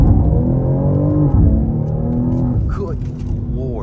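A 2024 BMW X4M Competition SUV accelerates hard in first gear, its engine note rising steadily in pitch and loudness, heard from inside the cabin with a brief shift-like dip partway through.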